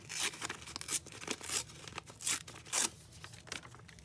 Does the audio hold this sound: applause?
no